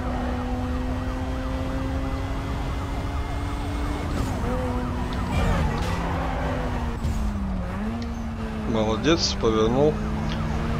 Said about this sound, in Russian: Какая громкая сирена у них